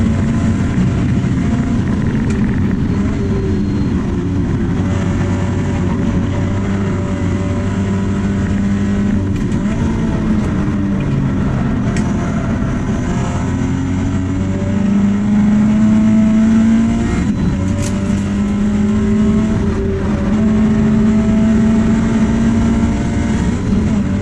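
In-car sound of a race car lapping Lakeside racetrack, a loud continuous engine drone whose pitch rises and falls with shifts and acceleration, with no voices.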